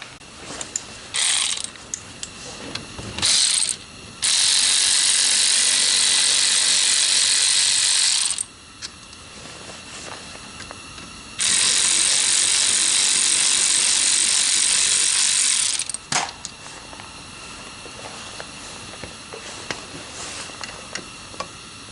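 A ratchet loosens a brake caliper on a 2005 Honda Accord in cold outdoor conditions, with two long, loud bursts of rapid clicking separated by scattered metallic taps and clunks.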